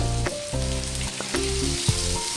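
Chopped ginger and four garlic cloves frying in a pan for North Indian fish curry, a loud, close sizzle under a rhythmic musical hum that repeats in short bursts.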